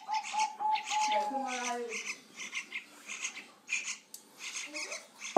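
Two-week-old local East Java bulbul (trucuk kebo) chicks call in thin, repeated chirps and squeaky notes, close by and fairly faint, in short bursts with brief pauses.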